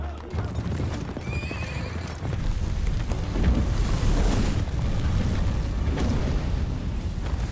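Horse hooves clip-clop steadily over a rumbling, noisy backdrop, with a horse whinnying faintly early on; a carriage rolls along at moderate loudness.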